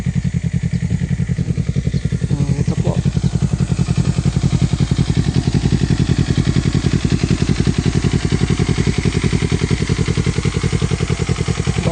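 A newly bought big-bike motorcycle with about 2,200 on the odometer idles close by in a steady, even rumble throughout, with someone speaking briefly over it.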